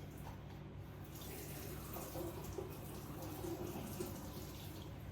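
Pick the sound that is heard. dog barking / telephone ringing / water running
water running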